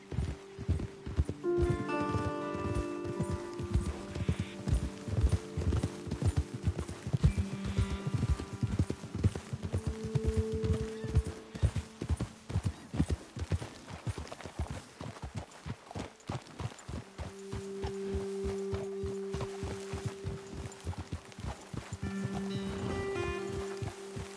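Steady clip-clop of horse hooves in Red Dead Redemption 2, several horses trotting at an even rhythm, close and continuous, with faint game ambience and brief tonal music in the background.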